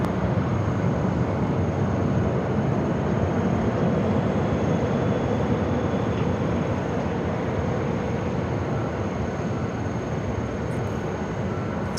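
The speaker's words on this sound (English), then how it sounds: "Flight heading to Cabo, now rolling down at 7 left." An airliner rolls for takeoff on runway 7 left at Phoenix Sky Harbor, a steady, loud broadband jet roar that holds constant throughout with no voices.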